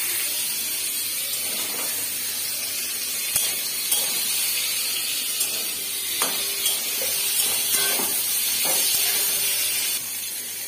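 Eggplant and potato pieces fry in hot oil in a pan, giving a continuous loud hissing sizzle, broken now and then by small clicks and knocks from the utensils.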